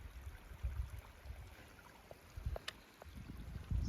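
A small babbling stream in a forest along a hiking trail trickles and burbles softly and continuously, with light rustles and faint bumps close by.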